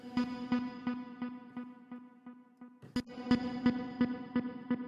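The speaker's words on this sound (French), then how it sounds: "une reverb qui est différente dans les mid et dans les sides." A repeating tone runs through a mid-side stereo reverb effect with added feedback, the echoes pulsing in a steady rhythm that quickens partway through.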